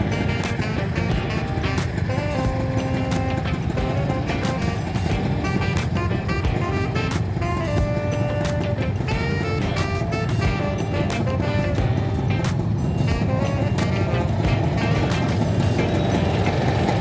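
A 2017 Honda Revo motorcycle idles and creeps through heavy city traffic on Gajah Mada, its steady engine drone mixed with surrounding cars, buses and horns in a constant, close roar.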